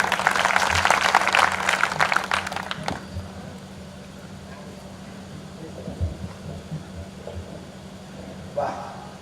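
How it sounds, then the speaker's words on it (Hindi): Loud applause from the crowd at a Hindi poetry gathering in Harda, bursting in and cutting off sharply after a few seconds. A steady hum and scattered voices follow. "हरदा की एक बार जोरदार तालियां।"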